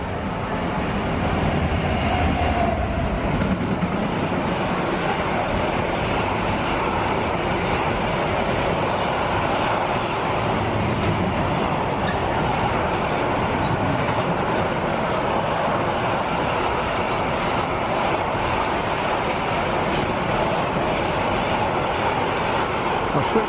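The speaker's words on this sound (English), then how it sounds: "A freight train" Freight train rolling through a railway station platform, a long steady rumble and rattle of wagons close by that stays constant throughout, with people occasionally speaking under the noise.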